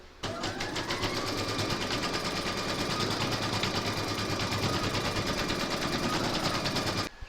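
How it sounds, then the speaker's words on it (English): An embroidery machine stitches a placement outline for batting on a Santa door tag, a close, steady, rapid mechanical chatter that runs continuously for several seconds without pause or voices. "you're going to stitch round number 1, and that's going to give you your placement outline for your batting."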